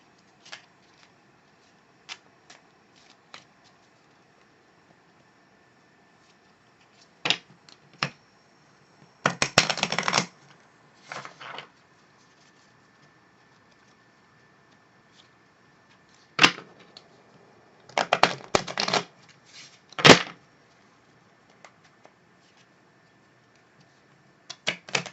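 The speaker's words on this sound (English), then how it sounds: "take the assortment of random event cards and shuffle them into the poker deck" Assorted random event cards being shuffled into a poker deck, heard as scattered bursts of papery riffling and snapping, with clusters of quick shuffles separated by quiet pauses at close range.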